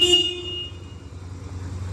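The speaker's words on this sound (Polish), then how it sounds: "klakson" A short motorcycle horn honk at the start of a 2002 Yamaha XV 125 Virago, then engine idle rumble continues underneath.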